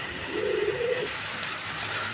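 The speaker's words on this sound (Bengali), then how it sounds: "এখানে এক পেয়ার কোকা কবুতর আছে" A pair of Kokka pigeons at a pigeon seller's, one giving a single low, drawn-out coo close by, with a quiet background after it.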